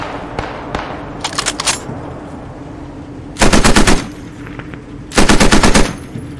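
Automatic gun fire in the World War II shooter Post Scriptum: a couple of faint early shots, then a short burst and two long sustained bursts of rapid fire, loud and close.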